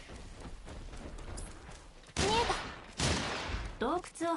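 Burst ammo gunfire in Atelier Yumia, a few sharp bursts of shots coming in quick clusters, loud and close over quieter game ambience, with a voice speaking lightly in between.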